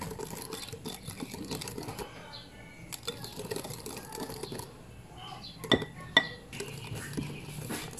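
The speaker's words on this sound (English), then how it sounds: "You can rest it for 5 minutes and then mix again" Chocolate cake batter is stirred in a bowl with soft, uneven scraping and a few sharp clinks of a utensil against the bowl, close and fairly quiet.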